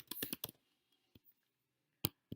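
Typing a company name on a computer keyboard, a quick cluster of close key clicks followed by a few isolated taps, with near silence between them.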